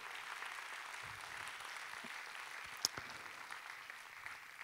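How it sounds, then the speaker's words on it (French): A ceremony audience applauds the jury at a 2018 closing ceremony, a faint, distant wash of steady clapping with one sharp clack partway through. "sous vos applaudissements nourris"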